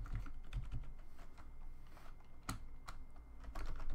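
Fingers typing Rust code on a computer keyboard: quiet, uneven clusters of close key clicks with a few sharper taps, continuing steadily with no voice.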